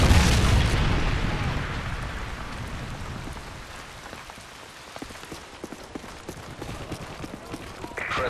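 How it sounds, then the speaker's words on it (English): A Predator missile strike in Modern Warfare 3 during a team deathmatch, heard as a loud, close boom at the start that rolls off into a long rumbling tail, with scattered small impacts and faint game noise afterward. "Friendly Predator missile inbound."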